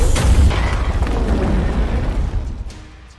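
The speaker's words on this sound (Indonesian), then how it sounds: "secara langsung meledakkan pabrik tersebut untuk membunuh Sakata" A factory blown up in a film scene erupts in a deep, loud explosion, a sustained rumbling boom that rolls on for a few seconds before gradually fading, with no voices.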